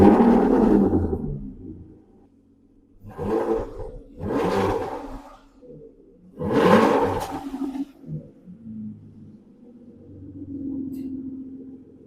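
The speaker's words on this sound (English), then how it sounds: "So let's put the crystal key in the vehicle, crank this thing up," An Aston Martin Vanquish engine fires up close by with a deep roar, then gets several sharp revs with pauses between them before it settles into a low, rumbling idle, with no talking.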